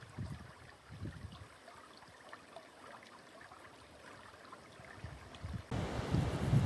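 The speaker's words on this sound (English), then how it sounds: "every now and again it'll go over a little weir and make that beautiful running water sound that I love" A river spills over a small weir on a warm summer's day walk in the Cotswolds, a soft, steady wash of running water heard from a short distance, faint and continuous, with a brief louder rush near the end.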